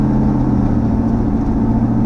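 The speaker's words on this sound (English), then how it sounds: "now it shifts real gentle at light throttle" A car with a swapped L83 Gen V engine cruises at light throttle, giving a loud, steady, close engine drone with an even low hum throughout.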